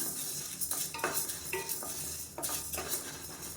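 Black rice and urad dal dry roasting in a pan, with repeated close scraping and stirring strokes of a utensil against the metal over a low hiss, and no talk.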